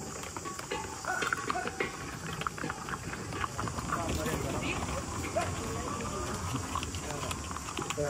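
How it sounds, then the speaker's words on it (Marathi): Horses walk along a hill-station track at Matheran carrying gas cylinders, their hooves patter and clop unevenly at close range under continuous talk and ambient noise. "सिलेंडर घेऊन चालेल घोडे."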